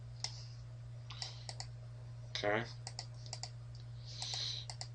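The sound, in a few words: typing keyboard shortcuts on a computer keyboard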